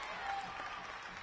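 At a girls' basketball game, a small but loud crowd roars and claps in a dense, steady wash of noise that runs unbroken through the brief moment.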